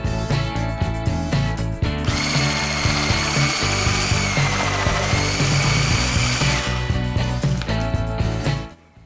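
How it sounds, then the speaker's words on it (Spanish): An electric mixer beats crepe batter, whirring with a loud, steady high mechanical hum over rattling clatter that runs for several seconds before cutting off near the end, with no talk. "Volvemos a batir bien."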